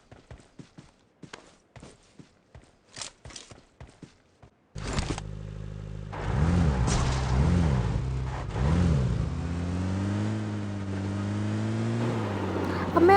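A car driven in the battle royale game PUBG: a loud, steady engine drone with rising and falling revs after a few seconds of sparse clicks and thumps, carrying on to the end.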